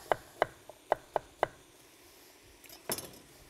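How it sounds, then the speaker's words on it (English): Knife slicing turnips into wheels on a board, five or six crisp, evenly spaced chops close by, then a short pause and one last louder clack; otherwise quiet. "for the turnips. I'm going to slice them into wheels"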